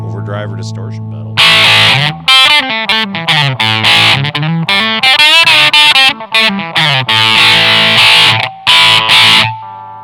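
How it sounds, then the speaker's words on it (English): Electric guitar driven through a Digitech Grunge distortion pedal plays loud, crunchy chords and riffs with sustained gritty notes, separated by brief stops. "Sounds like a crunchy overdrive or distortion pedal."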